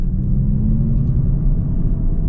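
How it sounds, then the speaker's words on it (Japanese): Simulated engine sound from a Mazda MX-30 R-EV, a fully electric-driven car: a steady low rumble holds from start to finish at even volume, with no talking. "ちょっと遠くの方がドロロロっていうような音がしているような、演出ありますが、完全に EV ですので音は演出ですね"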